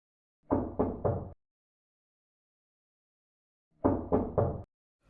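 Two bursts of three sharp knocks on a wooden door, about three seconds apart, close and loud in otherwise silent surroundings.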